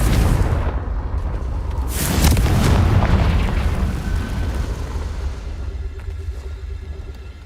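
A Confringo blasting curse explodes in Hogwarts Legacy, a loud booming blast with a rumbling tail that slowly fades.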